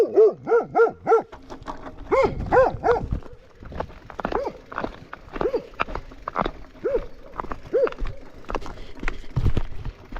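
A dog barks in a rapid series of loud, close yaps at first, then keeps barking more sparsely and farther off on a rural outing near the Velise river, with footsteps and outdoor noise underneath.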